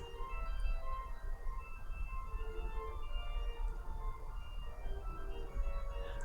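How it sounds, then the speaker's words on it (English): Repetitive organ music looping on a livestream, a faint, steady stream of sustained tones over low rumble, playing alone without voices. "I can imagine that getting annoying if you're listening to the same fucking organ music again and again."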